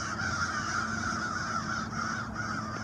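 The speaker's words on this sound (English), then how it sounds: "Birds are loud." Crows caw continuously in a noisy chorus, harsh calls overlapping at moderate distance with no pauses.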